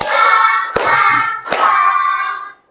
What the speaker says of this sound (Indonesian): Coba tepuk 5 little finger